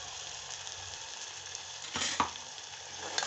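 Tomato puree fries in oil in a pan for a green-pea curry, giving a soft, continuous sizzle that is close and steady, with a brief clatter of stirring partway through.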